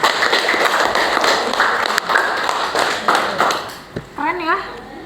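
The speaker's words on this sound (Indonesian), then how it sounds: "Tepuk tangan buat Resti." Students in a classroom clap for a classmate's presentation, a burst of fairly close, uneven clapping that thins out after a few seconds, followed by a voice speaking.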